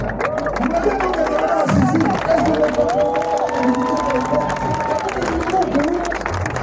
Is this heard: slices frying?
no